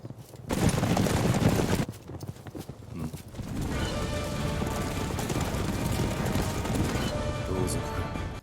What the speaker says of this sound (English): he hears the sound of horses approaching him